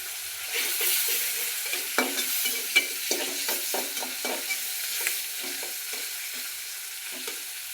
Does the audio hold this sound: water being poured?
no